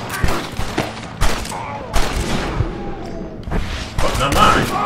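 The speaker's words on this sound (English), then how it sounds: "I'm shooting motherfuckers from back here" Gunfire from a Western shootout in Red Dead Redemption: several sharp, loud shots and volleys land roughly every second, mixed with thuds and a voice talking over the action.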